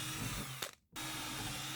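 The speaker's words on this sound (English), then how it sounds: "We'll now take it off and we'll drill right through them" A power drill bores holes through an old timber A-frame ladder, a steady close grinding whir that cuts out briefly and then resumes.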